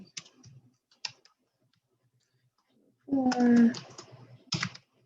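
Keys clicking on a computer keyboard during a chemistry Q&A session, a short burst of rapid taps between sparse spoken numbers, near and fairly quiet.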